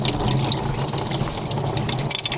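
Coolant drains from a Toyota 2JZ engine block in a steady, close splashing stream of liquid, with a few brighter drips and trickles toward the end.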